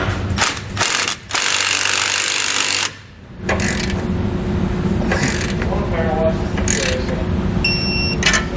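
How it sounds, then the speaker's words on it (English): A ratchet tightens an air spring bracket for Firestone Ride-Rite air helper springs on a 2013 Ford F-250, heard as loud bursts of rapid metallic clicking separated by short pauses and a steady workshop hum. "So we're just going to tighten enough where that'll stay in there and we'll come back and we'll tighten it down."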